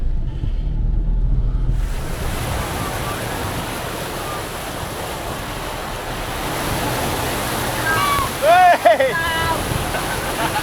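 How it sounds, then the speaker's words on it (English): Loud, steady roar of floodwater rushing over a bridge in Mindanao, a broad constant wash with a brief high squeal near the end. "The water is over the bridge."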